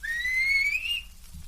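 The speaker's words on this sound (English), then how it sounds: "He always answers when I whistle to him." A person whistles a single sustained, gently rising note lasting about a second to call a horse, clear and fairly close with no talk over it.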